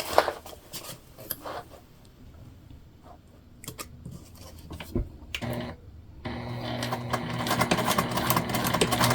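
A sewing machine backstitches seams on a crossbody bag, first with quiet handling and clicks, then a steady close mechanical whirr of stitching that runs through the final few seconds.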